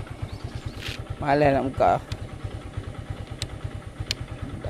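An old Modenas GT128 motorcycle engine running, a steady rhythmic low putter that pulses throughout, with someone talking briefly over it.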